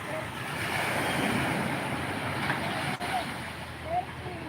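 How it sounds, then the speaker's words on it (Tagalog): Big ocean waves surge and break on the shore at Barangay Calayo, a steady broad roar of surf with wind buffeting the microphone, heard close and continuous without talk. "grabe, ang lalaki ng alon dito"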